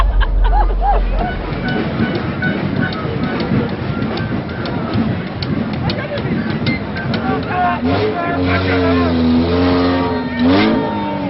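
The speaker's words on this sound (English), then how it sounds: "the presence of noisy old cars, or brajaks as they are called, which carry revelers around" Old carnival cars known as brajaks, carrying revelers in Martinique, rumble and rev loudly and continuously, with a crowd's voices mixed in and a horn-like tone sounding toward the end.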